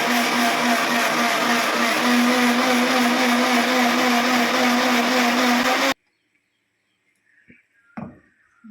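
A blender grinds rice porridge in a loud, steady motor whine for about six seconds, then cuts off abruptly, followed by quiet and a couple of faint clatters.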